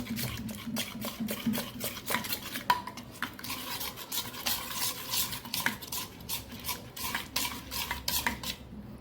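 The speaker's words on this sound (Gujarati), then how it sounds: "સેમ એ જ રીતે ચાટ મસાલો થોડો આપણે આમાં ઉમેરી દઈશું, થોડો રાખશું, પાછું મિક્સ કરી દઈશું" A spoon stirs a curd and cucumber salad with chaat masala in a bowl, giving repeated soft scraping and clinking strokes in an uneven rhythm, close and fairly quiet with no talking.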